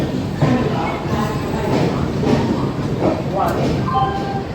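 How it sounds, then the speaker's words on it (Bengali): The Kalinga Utkal Express pulls into Morena station with a steady rumble and rattle of carriages that continues throughout, while voices talk nearby. "এখন আমাদের ট্রেন এসে পৌঁছেছে মোরেনাতে"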